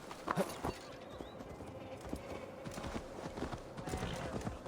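Horse hooves clip-clop in the video game Assassin's Creed Valhalla as a horse is ridden through a Gloucestershire forest, with steady, fairly faint hoofbeats continuing over quiet ambience.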